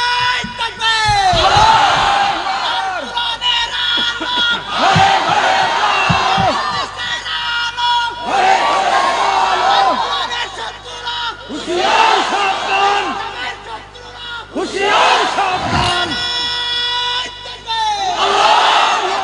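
A large crowd at an Islamic mahfil gathering shouts the takbir chant in loud, massed bursts, roughly five surges of roaring voices separated by brief dips.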